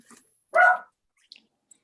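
A dog gives a single short bark in the background of an indoor meeting, somewhat distant and otherwise surrounded by near silence.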